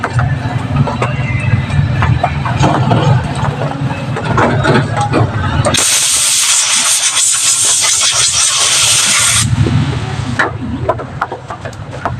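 Carburetor cleaner sprays onto a carburetor fouled by stale gasoline, a loud, continuous hiss lasting about four seconds that cuts through a low idling engine rumble and rattle, which resumes once the spray stops.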